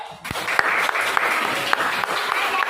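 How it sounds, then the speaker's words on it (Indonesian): Classroom students burst into quick, dense applause for a classmate named Fadil; the clapping starts abruptly and stays steady and close. "tepuk tangan untuk Fadil"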